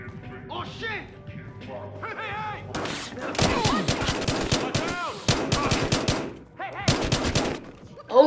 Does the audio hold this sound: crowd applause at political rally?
no